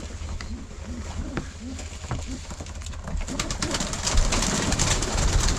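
Pigeons coo repeatedly in soft, low, rhythmic calls close by, over a steady background hum and scattered clicks and rustling.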